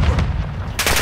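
Gunfire from Call of Duty: Modern Warfare II, a loud, dense burst of shots crackling throughout the moment, with a sharper cluster near the end.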